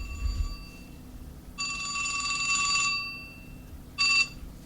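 Mobile phone ringing in a radio studio during a live show, a bright electronic tone that rings for over a second, pauses, then sounds again briefly, close and clear over a quiet room.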